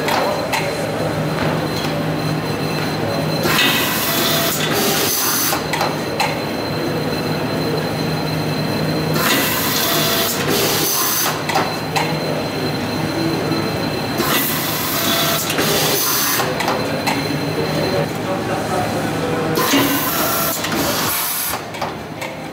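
Machine pre-screwing nuts on bicycle wheels in a wheel workshop, a loud steady mechanical whirring and rattling that swells in repeated cycles.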